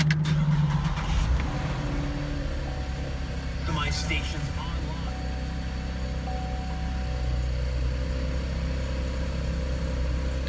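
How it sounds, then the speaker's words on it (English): A six-cylinder Chevrolet Camaro fires up on a cold start and settles into a low, steady idle rumble, with a brief starter noise at the beginning and a person talking over it. "So here is the car and how it sounds on a cold start."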